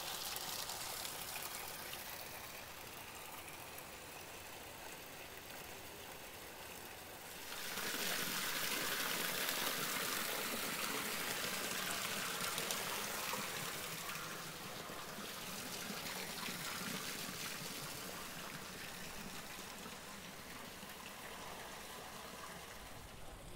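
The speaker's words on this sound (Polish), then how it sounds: "Tędy płynie woda i nawadnia pola." Water runs steadily through an old Inca stone irrigation channel at Ollantaytambo, Peru, a soft continuous trickle and gush that swells louder partway through, with no voices.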